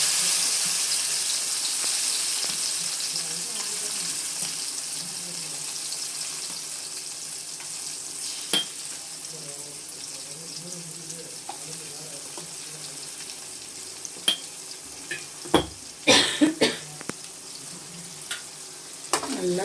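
Ground tomato pours into a hot pan of oil with cumin and sizzles steadily, a continuous frying hiss with a few sharper clinks and splashes of stirring toward the end.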